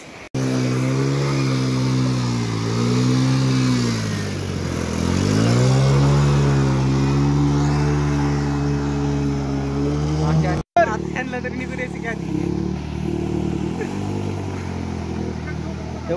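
A vehicle pushes through a flooded road after a cloudburst in Manegaon village, Madha taluka, Solapur district, its engine droning loudly and shifting pitch as it moves through the water, with voices over it and a brief dropout partway.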